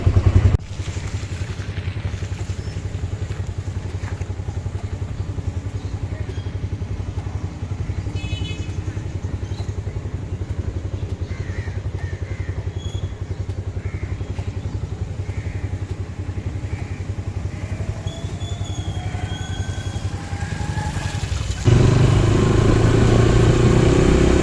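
A motorcycle rides along a dug-up road with a steady, mid-pitched engine drone, light clatter and passing traffic; near the end the sound turns suddenly louder and rougher.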